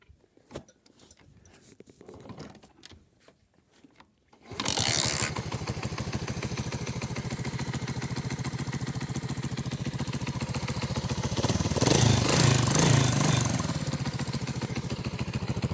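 A vehicle engine left unused for two years, with a weak battery, is started after a few quiet clicks; it turns over and settles into a loud, steady, rhythmic running sound that continues to the end.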